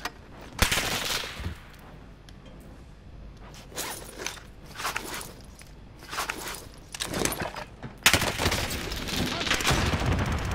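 Double-barrel shotguns fire in a video game as several sharp, loud blasts scattered among quieter rustles and clicks, with a dense burst of shots near the end.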